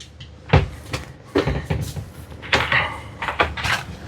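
Shower doors in a 2025 Tiffin GH1 camper van built on a Sprinter 2500 AWD, opened and closed several times, giving a series of close, solid knocks and clicks of hardware at irregular intervals.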